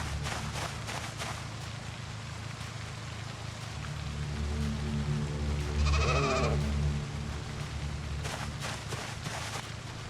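A sheep bleats once in the video game Project Zomboid, a wavering cry near the middle rising over a steady low engine hum from a running vehicle, with scattered clicks and thuds around it.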